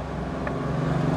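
A Mahindra Bolero Neo with the mHawk100 engine pulls under full throttle, giving a steady, even engine drone with road rumble from inside the cabin, with no talking.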